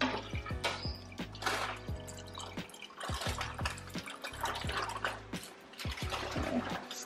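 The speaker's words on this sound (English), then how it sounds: "So you want to go and pour the rice water into a pot." Water splashes and trickles steadily into a pot, with intermittent drips and a gurgling pour close by.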